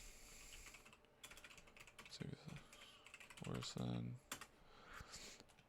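A command being typed on a computer keyboard, rapid close clicking keystrokes running steadily throughout, quiet overall, with a voice speaking over part of the typing.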